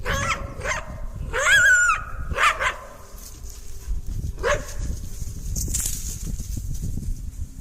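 Coyotes fighting a mountain lion over an elk carcass at night, several sharp yips, barks and whining cries in quick bursts, then quieter scuffling, moderately distant with no speech.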